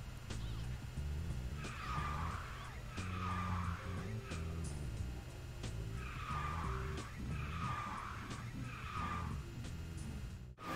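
Karts drifting in the KartRider video game, with repeated tire skids and squeals coming in a steady series of bursts over a constant engine drone and game music.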